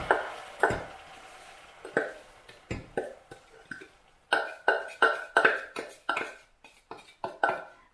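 A spoon stirring crumbled biscuit into melted butter in a pan, heard as a series of close, irregular scraping knocks and taps against the pan, with no talk.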